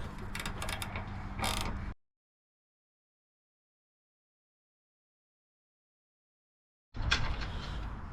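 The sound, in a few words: loosening a bolt with a size 10 wrench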